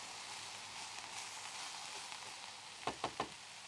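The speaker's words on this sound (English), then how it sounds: "now while that's stir frying" Root vegetables sizzle steadily as they stir-fry in a hot pan for pea and ham soup, a soft continuous frying hiss, followed near the end by three quick scraping stirs.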